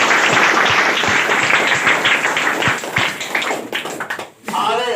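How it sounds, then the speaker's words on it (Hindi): Loud, dense audience applause at a motivational talk, sustained clapping close and full for about four seconds before it breaks off and a voice begins. "जोरदार ताली बजाइएगा आप लोग।"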